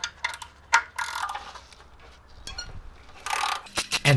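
A ratchet turns an extractor socket on a rounded bolt set in a deep hole, sharp close clicking pawl ratchets coming in short bursts with brief pauses and metallic scraping between strokes.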